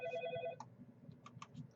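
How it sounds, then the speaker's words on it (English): A phone's electronic ring tone sounds for about half a second and then cuts off, followed by faint scattered clicks and room noise. "sorry about my phone ringing"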